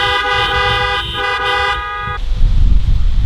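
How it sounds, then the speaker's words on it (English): Several car horns honk together in long sustained blasts at a drive-in theatre graduation ceremony, loud and layered for about two seconds before giving way to rumbling engine and crowd noise. "Please join me in rallying a honking support for them."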